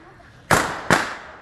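Firecrackers blasting during Guatemala's burning of the devil festival, two sharp loud bangs about half a second apart, each one tailing off briefly.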